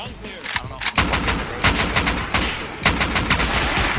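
Weapon fire during a Rust online raid, with rocket launcher shots: a dense run of loud, close blasts and rapid gunfire bursts that keeps going through the whole stretch.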